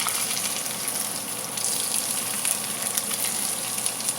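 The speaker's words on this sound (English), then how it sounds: "Already hot, it's very hot, and I'm going to throw this in the ginger and the green onion which I blend early" Blended ginger and green onion dropped into very hot oil, giving a steady, close crackling sizzle with bright spitting pops that holds throughout at an even level.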